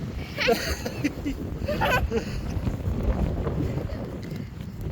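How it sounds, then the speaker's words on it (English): Gusty wind buffets the microphone in a steady roar, with voices calling out faintly in the middle. "Oh, it's really windy."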